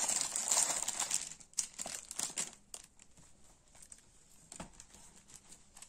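A paper budget planner is opened, with close crinkling and rustling of pages loudest at the start, then quieter scattered paper rustles and a soft tap.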